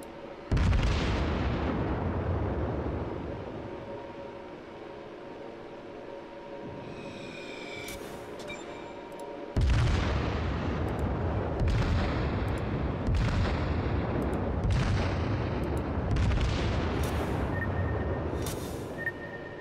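The battleship Fuso's main guns fire salvos in the World of Warships video game: heavy booming blasts, one opening crash followed after a pause by a rapid series of sharp reports, each trailing into rumbling decay.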